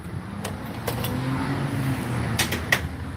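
A car engine rumbles nearby as someone gets on the throttle, a steady low growl with a few sharp clicks and knocks over it.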